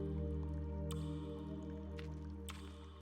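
Water droplets in the video game The Longing fall in three distinct, spaced drips with a wet squish, over a steady low ambient drone.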